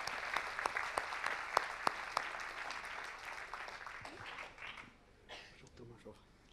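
An awards ceremony audience claps for a prize winner, a moderately close patter of hands with sharp individual claps that thins out toward the end, with faint voices under it.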